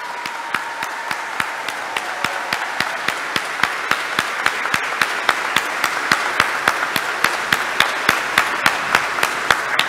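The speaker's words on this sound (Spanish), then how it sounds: "Y les damos un fuerte aplauso." Audience applause for a graduating class at a school ceremony, many hands clapping together, with a sharp, regular rhythmic beat standing out from the crowd and growing slightly louder over time.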